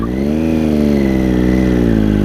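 A motorcycle engine running steadily up close, loud and continuous with a low rumbling drone and a slight rise in pitch as it revs.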